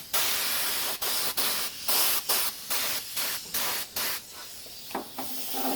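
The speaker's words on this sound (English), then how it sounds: "I'm doing it at real low pressure because I don't want to get too much overspray." Low-pressure paint spraying on a car's repaired plenum chamber, a series of short hissing bursts of roughly half a second each, close and fairly loud, with brief pauses between.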